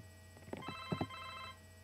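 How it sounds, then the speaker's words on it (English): A cell phone rings with a short burst of electronic tones, fairly faint over a steady background hum. "Oh, is that your cell phone?"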